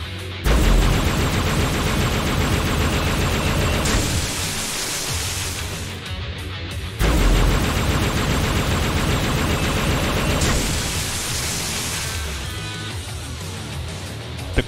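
A Plasma Rifle from the video game Halo Reach fires in two long, loud, sustained bursts of rapid shots, each lasting about four seconds and separated by a short pause.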